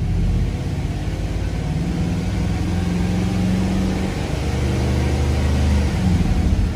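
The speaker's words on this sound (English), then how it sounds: "go ahead and rev it up a little bit so you can hear it" A warmed-up 2006 Pontiac GTO with a 6.0L V8 idles with a steady, low rumble and rises slightly in revs, close and continuous, with no talking.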